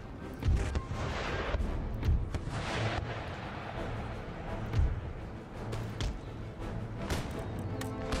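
Massed musket volleys and artillery fire in the Empire: Total War strategy game, a continuous crackle of distant gunfire with repeated deep booms of cannon, rolling and layered over a battle din.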